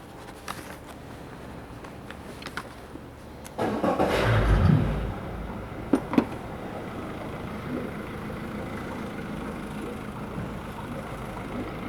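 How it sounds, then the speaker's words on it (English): A 2018 Yamaha 115 hp four-stroke V MAX SHO 1.8L outboard motor cranks and fires at about four seconds, then settles into a steady, moderately loud idle with a couple of brief clunks. Quiet background hiss comes before the start. "We'll fire this motor up,"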